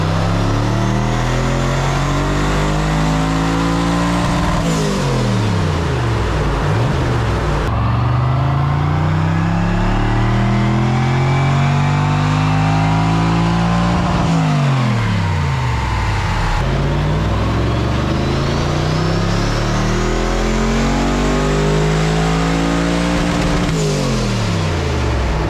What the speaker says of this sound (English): There it is, 623 horsepower, but that was only at 7 psi of boost, and Garry plans to run 15 psi